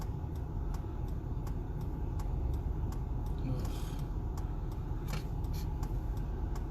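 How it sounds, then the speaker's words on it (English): Road traffic on a weekday morning heard from inside a moving car: a steady low engine and road rumble with faint ticking clicks, fairly quiet and continuous, with no talk. "This is a lot of traffic for 10:30 on a Tuesday or Friday."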